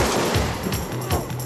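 Gunfire from prop guns in a low-budget action film, a rapid burst of shots with a few heavier reports, close and loud, with no talking.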